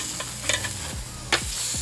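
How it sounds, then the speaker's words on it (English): Tuna steaks sizzle on a grill outdoors on a Bahamas fishing trip, a close, steady frying hiss with brief clattering stirs and scrapes of a spatula. "You can hear that grill sizzling."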